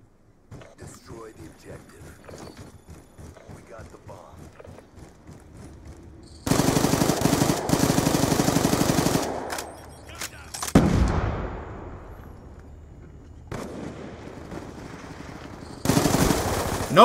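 An MSMC submachine gun in a first-person shooter fires long rapid bursts, loud and close, alternating with quieter stretches of game noise and someone talking.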